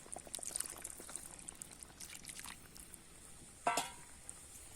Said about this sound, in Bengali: আর একটু সামান্য জল দিয়ে দিচ্ছি।